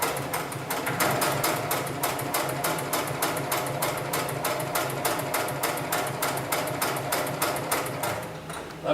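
A 733CS heavy-duty sewing machine stitches thick lifting-sling material, hammering out a fast, even train of sharp needle strikes that runs close and steady throughout.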